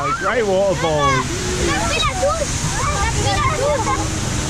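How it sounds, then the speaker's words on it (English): Rushing, splashing water on a long rapids ride at Walygator Parc, a steady wash of spray throughout with excited riders exclaiming and chattering loudly over it. "It's quite a good rapids"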